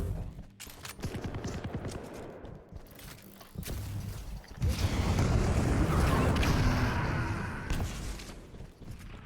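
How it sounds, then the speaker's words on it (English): Machine gun fire rattles in a fast-paced Quake Champions arena match, with bursts of rapid shots and clattering impacts. Dense action noise swells near the middle. "machine gun versus machine gun"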